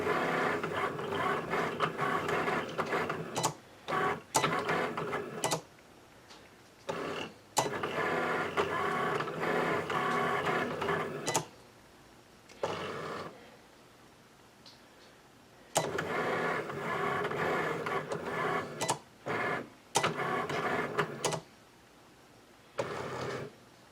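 Cricut cutting machine slicing vinyl letters for a winter wreath sign, a steady close mechanical whirr and buzz running in long passes, broken by short gaps and sharp clicks as the carriage shifts.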